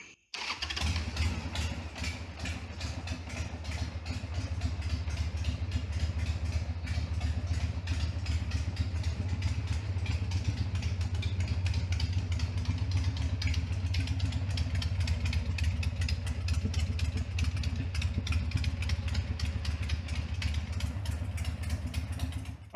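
A Harley Davidson Sportster 1200 motorcycle engine idles steadily close by, a loud, even, rapid thumping rumble that continues unbroken for the whole stretch.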